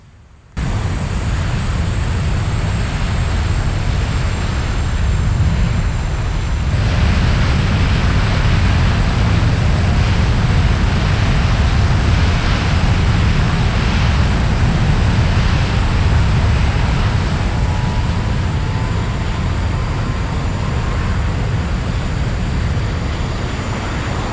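An F-86 Sabre jet taking off at a distance in Microsoft Flight Simulator: a loud, unbroken roar of broadband engine rumble and hiss that swells after a brief quiet start and holds steady throughout, with no voices.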